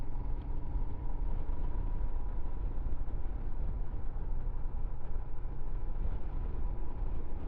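A 2023 Royal Enfield Himalayan 411 motorcycle chugs along at low revs in third gear, a steady, rumbling engine drone with a low pulsing beat that continues unbroken throughout.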